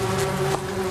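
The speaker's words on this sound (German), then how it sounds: "Dann kommt der Profi mit einem brummenden Müllsack voller Wespen wieder raus." Wasps buzzing inside a garbage bag, a close, steady droning hum with a brief louder flare near the end.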